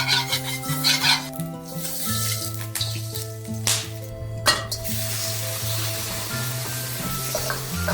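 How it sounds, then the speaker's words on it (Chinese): Shrimp stir-fried in hot lard in a wok for Penang gravy rice gives a steady close sizzle with scraping stirs, under a tonal background melody. "先放入虾子爆香"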